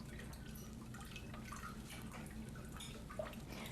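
Leeks swished and shaken around in water to rinse out dirt, giving a steady low wash of sloshing and dripping with scattered small splashes, fairly close and continuous throughout, no talking.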